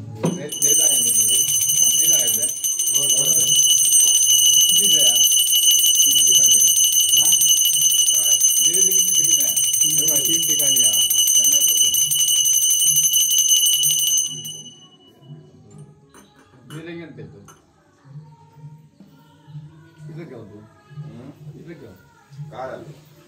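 A bell rings continuously and loudly during a Ganpati pooja in a Konkan village home, stopping abruptly after about fourteen seconds while people keep talking over and after it.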